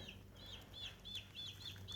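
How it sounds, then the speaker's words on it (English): Jumbo Cornish Cross meat chicks from McMurray Hatchery peep in a quick, regular series of faint high chirps over a low background hum. "chickens from McMurray Hatchery."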